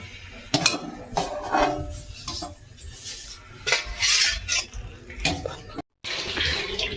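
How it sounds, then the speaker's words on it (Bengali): Chocolate bread lifted off a pan on a gas stove, with clinks and scrapes of metal utensil against the pan and a few clattering knocks, close and uneven, cut by a brief gap near the end. "এবার আমি তুলে নেব, গ্যাসটা অফ করে দেবো।"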